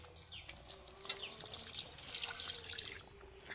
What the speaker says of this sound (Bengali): এইবার জল দিয়ে দেব